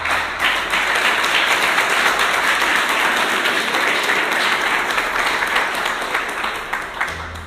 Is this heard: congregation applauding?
yes